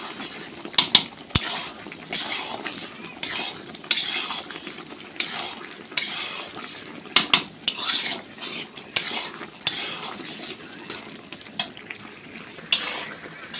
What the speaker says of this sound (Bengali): তো বন্ধুরা আমাদের মাংস প্রায় 10 মিনিট ধরে কষানো হচ্ছে।